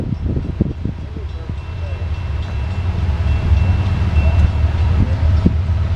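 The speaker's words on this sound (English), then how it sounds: "Right now, this could be an ethanol train." A southbound Norfolk Southern ethanol freight train rolls past in Marion, Ohio, a loud, steady rumble with rhythmic clatter of wagons over the track throughout.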